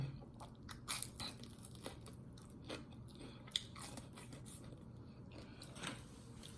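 Crunchy, well-done oven chicken wings are bitten and chewed close up, with soft irregular crunches and a few sharper bites over a quiet background.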